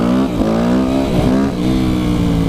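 Yamaha YZF 250 dirt bike engine revving hard during a wheelie attempt, a loud, close, buzzing four-stroke note that rises and dips with throttle blips.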